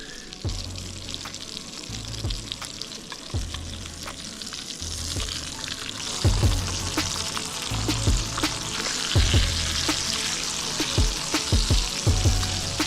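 Pork sizzles and fries steadily on a Trangia camping stove, a dense continuous crackle with faint scraping and stirring clicks throughout, close and loud with no talking.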